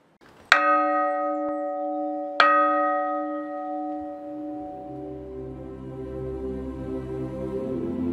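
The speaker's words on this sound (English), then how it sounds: "these bells may have been cast almost 400 years ago, but they still have a beautiful tone" Centuries-old church bells at St Peter's in Swettenham, Cheshire, struck twice in slow succession, each bright metallic strike leaving a long, rich, humming decay that rings on alone with no talk.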